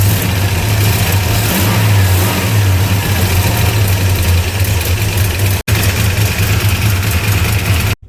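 A long-abandoned Mopar Road Runner's engine, running lean, idles steadily at a low, uneven idle, loud and close, with a brief dropout near the end.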